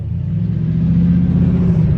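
The 1800-horsepower engine of a 1985 Oldsmobile Cutlass 442 runs with a loud, steady, deep rumble that holds close and unbroken throughout.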